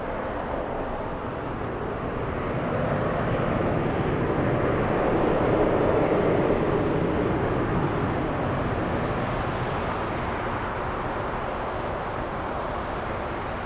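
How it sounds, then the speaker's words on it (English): An American Airlines airliner lands on runway 25 left at LAX, producing a steady broad roar of jet engine and wind noise that stays loud and unbroken throughout. "We have American Airlines on runway 25 left."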